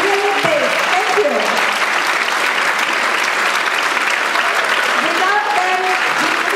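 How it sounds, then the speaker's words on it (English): Audience at a Chennai flood relief fundraiser event keeps up a loud, continuous round of applause, with voices calling out briefly over the dense clapping. "Please continue the round of applause."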